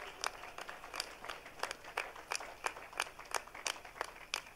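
A congregation claps in a steady, regular rhythm during a Pentecostal church service, sharp claps repeating about twice per second over faint background noise.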